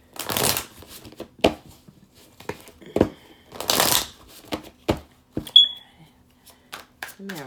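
Tarot cards being shuffled by hand in a series of short, crisp riffling bursts, close and fairly loud, with quiet pauses between them.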